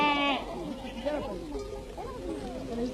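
Domestic goats and sheep in Turkey bleat in a wavering chorus of several overlapping calls, fairly close and steady across the stretch, with faint voices murmuring underneath.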